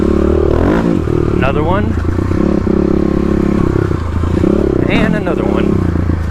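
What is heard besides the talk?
Stage 3 Kawasaki KLX351 dirt bike riding forest trails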